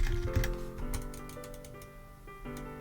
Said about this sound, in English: You are gonna hear a lot of clicking.